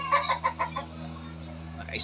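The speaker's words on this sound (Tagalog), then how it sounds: "Yan guys, manok ng natin yan." Several chickens cluck in short, repeated bursts, with a low steady hum in the background and another bird call rising at the end.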